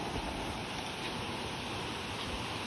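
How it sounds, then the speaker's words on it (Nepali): A nearby river, muddy and dangerous, rushes with a broad, even roar of flowing water, steady and fairly faint, with no voices. "अब चाहिँ लगभग खोलाको नजिक आइसक्यो।"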